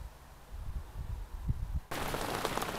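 Heavy downpour rain sweeps in suddenly after low rumbling thuds, becoming a loud, dense, continuous hiss that holds steady to the end.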